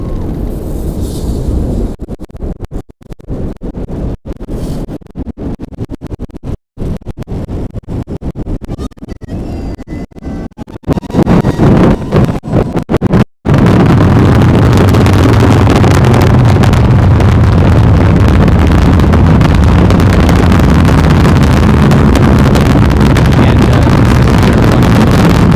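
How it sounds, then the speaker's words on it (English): A SpaceX Falcon Heavy rocket lifts off carrying the GOES-U satellite, with crackling, choppy noise giving way to a sudden, sustained, very loud broadband roar that fills the rest of the stretch. "we'll let you listen to the sounds of the launch."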